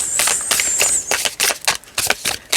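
A deck of tarot cards is shuffled close up in a run of quick, crisp riffling bursts and snaps with short gaps between them, over a thin high whine.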